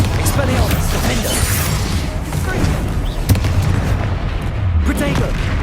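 Explosive spells cast in Hogwarts Legacy set off continuous booming blasts and crashes, loud and close, with a couple of sharper impacts standing out over a rumbling wash of noise.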